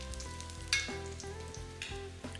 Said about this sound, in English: Stir fry this ginger for about 30 seconds to 1 minute